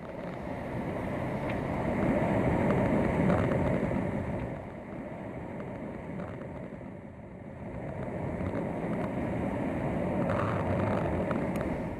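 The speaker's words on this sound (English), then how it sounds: "rushing water rushing through the back crack in the light conduit" Continuous rushing, gurgling water noise from water flowing through a crack in a swimming pool light conduit, steady and broadband, swelling and easing slightly over time with no voices.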